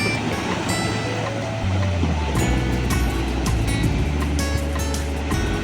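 Sea waves rolling onto a beach shore near a floating bridge make a steady broadband roar with repeated surging washes, close and fairly loud throughout.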